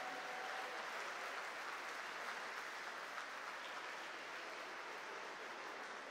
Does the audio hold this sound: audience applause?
yes